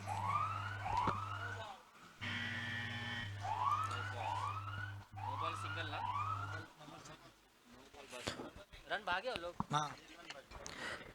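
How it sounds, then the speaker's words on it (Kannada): A siren at a Karnataka hard-ball premier league cricket match wails in repeated rising sweeps to signal a free hit. Voices talk over it, and crowd noise follows toward the end. "ಸೈರನ್ ಸದ್ದಿನ ಸೂಚನೆ ಏನಂದ್ರೆ ಫ್ರೀ ಹಿಟ್ ಎಸೆತ"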